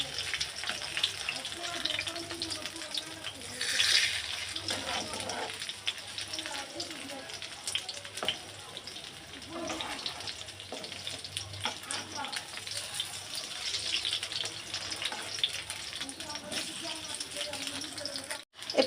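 Brinjal slices fry crisply in a pan with oil, giving a steady, fairly faint sizzle and crackle that rises and falls with occasional swells throughout.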